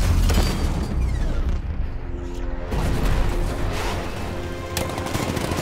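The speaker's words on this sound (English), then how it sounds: ".60mm cannon operational." A 60mm cannon fires in the Batman Arkham Knight video game, pounding out a rapid, sustained salvo of heavy, booming shots that stays loud and close for several seconds.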